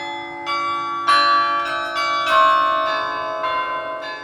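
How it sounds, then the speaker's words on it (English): Carillon bells ring in the Campanile tower of a university, a series of bright clanging strikes about every half second to second, each leaving a long shimmering resonance, loud and alone. "I always consider the carillon as being the heartbeat"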